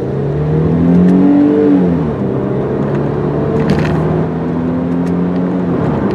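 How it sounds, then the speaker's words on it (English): A 2001 VW Passat wagon with auto stick accelerating up through the gears, engine droning and rising in pitch, with distinct shift drops, heard loud and steady from inside the car. "I'm gonna do the auto stick actually, and we'll go up through the gears that way."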